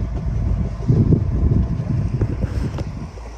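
A sailboat's diesel motor pushes the boat into a light thermal headwind of about three knots across Gökova Bay in Turkey. It drones low and steady, with gusts of wind buffeting the microphone over the top.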